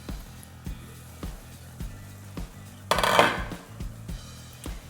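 Cooking pot of egusi soup with a lid set on it, a regular series of sharp metallic taps and clinks with a louder rattling burst midway, no voices.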